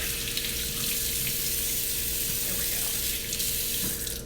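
Running tap water pours steadily into a sink as a cabbage wedge is rinsed for corned beef and cabbage, a constant soft hiss with no talking.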